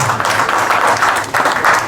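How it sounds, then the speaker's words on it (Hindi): Applause at a Hindutva song launch event honouring Subhash Ghai, dense and steady clapping from a crowd, sustained throughout with a brief dip and then a fresh swell near the end. "एक बार जोरदार तालियां।"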